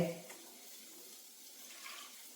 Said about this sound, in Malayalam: വെള്ളം ഒഴിച്ചു കൊടുത്തില്ല വെള്ളം ഒഴിച്ചു കൊടുക്കട്ടെ